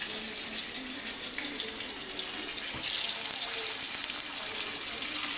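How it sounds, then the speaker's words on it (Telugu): Marinated Apollo fish pieces deep fry in hot oil, a steady, close, hissing sizzle that fills the whole stretch without a break. "కొంచెం డీప్ ఫ్రై చేసుకుందామండి."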